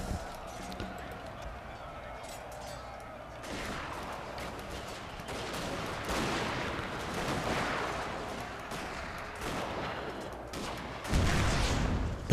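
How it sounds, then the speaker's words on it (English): Cannon and musket fire ring out during a Fall of the Samurai battle in Total War: Shogun 2, a series of sharp booms and crackling volleys spread across the scene with battlefield din between them. "Oh wow, I fired the cannon in the face of somebody."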